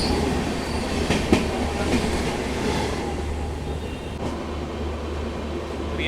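A Ghaziabad–Delhi Junction MEMU train rolls past close by, a loud continuous rumble of wheels on rails with faint rhythmic clicks over the track joints and no talking.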